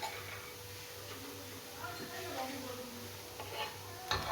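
Bread pakora coated in besan fries in hot oil while its sides are pressed in to cook, a quiet continuous sizzle with faint ticking and a sharp utensil clatter at the end.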